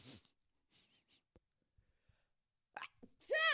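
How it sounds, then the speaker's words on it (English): A person sneezes once with a sharp, loud burst at the end, preceded by a few faint breaths and small mouth sounds in near silence. "I'm going to sneeze"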